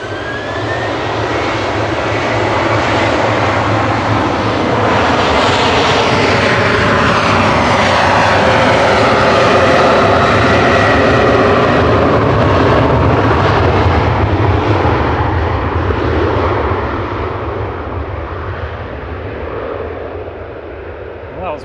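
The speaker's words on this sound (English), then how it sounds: "So next up for departure is Ryanair to Naples." A Ryanair Boeing 737-800 jet departs Manchester Airport, its engines roaring loud and sustained with a sweeping rise and Doppler shift as it passes, then slowly fading.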